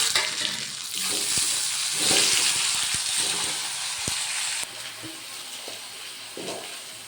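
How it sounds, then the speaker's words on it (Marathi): Tomatoes land in bitter gourd frying in turmeric-spiced oil, setting off a steady hissing sizzle. Soft clinks and scrapes of stirring sound now and then, with no talking. "आता याच्यामध्ये टमाटर टाकून देऊया"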